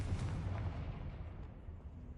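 A Confringo fire spell explodes in Hogwarts Legacy, giving a deep rumbling burst that booms at the start and then fades into a dull low roll, with no talking over it.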